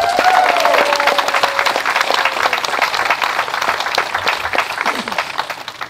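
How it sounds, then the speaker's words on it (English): Guests at a farewell party applaud the staff, loud close clapping from many hands with distinct individual claps and a few voices, tapering slightly toward the end. "give them a round of applause."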